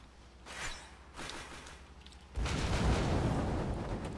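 A grenade goes off in Borderlands 2 after a few light thuds, erupting into a loud, sustained rumbling blast that fills the last couple of seconds.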